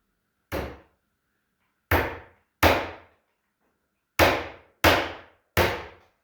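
A hammer drives a small 3/4-inch nail into a thin cedar tongue-and-groove ceiling board. Six sharp, close taps ring out alone, each fading quickly, spaced irregularly with short pauses and quick pairs.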